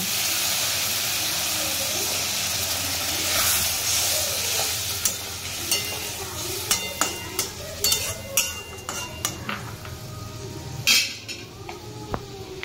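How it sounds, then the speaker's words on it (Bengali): Water poured into a simmering chhena curry with mixed vegetables sets off a hissing, steamy sizzle, followed by scattered clinks and scrapes of stirring against the pan, with a faint voice in the background. "এবার আমরা এর মধ্যে দিয়ে দেবো সামান্য পরিমাণে জল।"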